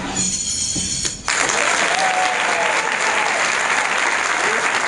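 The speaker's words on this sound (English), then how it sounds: "they will madly applaud" A magic show audience breaks into loud, dense applause after a brief lull, sustained clapping from a large crowd filling the room close up for several seconds.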